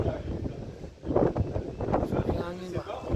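Gusty wind buffets the microphone at an outdoor lunch reception, loud bursty rumbling that comes and goes while people talk nearby.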